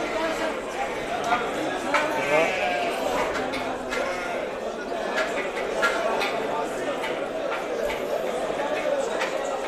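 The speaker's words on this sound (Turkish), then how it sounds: "koyunlar" Sheep bleat repeatedly over a steady din of a flock at a livestock market in Çavdır, Burdur, Turkey, with people chattering in the background.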